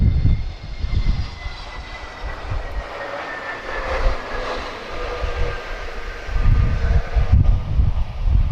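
A TAP Airbus A320neo jet arriving from Paris Orly at Lisbon Airport in a crosswind, heard as a steady distant engine roar that swells and fades, with no talk.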